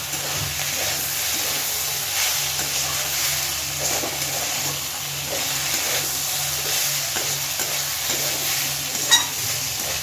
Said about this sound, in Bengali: ধনেপাতাটা দিয়ে ভালোভাবে মিশিয়ে দিলেই হয়ে যাবে।